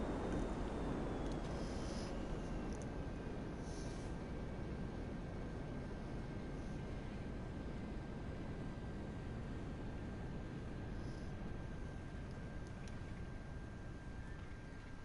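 VTOL aircraft engine in the video game GTA V, a steady, loud roaring rush with a faint sustained whine above it, continuous and unchanging throughout.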